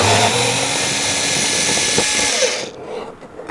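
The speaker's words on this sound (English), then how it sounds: "I'm simply going to use my little drill and get the screw out" A loud, steady cordless-drill whine runs continuously for a couple of seconds up close while removing a screw, then cuts off and winds down into quiet.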